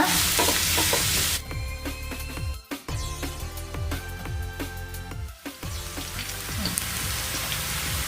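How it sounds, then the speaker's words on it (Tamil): Onions sizzle loudly in hot oil, with repeated scraping and stirring sounds as a spatula moves them around the pan. "இந்த 3 வெங்காயம் நம்மளுக்கு நல்லா கொஞ்சம் ப்ரௌன் கலரில் ஃப்ரை ஆகணும்"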